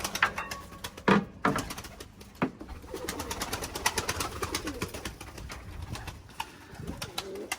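Pigeons clatter into flight on a very windy day, their wingbeats giving sharp bursts and claps over a gusty background, with cooing and a brief thud at times.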